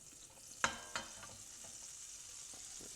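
Butter melts into olive oil in a hot pan, making a soft, low sizzle. Two sharp clicks of utensil or pan sound near the start, then a quiet, even crackle continues with no talking.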